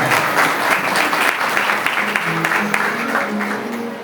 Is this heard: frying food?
no